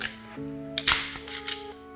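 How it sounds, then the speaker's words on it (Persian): A Glock 26 Gen 3 pistol's slide is released and slams forward with one sharp metallic clack, followed by a few lighter clicks, heard over soft background music. "خب تا اینجاش که خوب گذشت و این سلاید هم برمیگردیم اینجا"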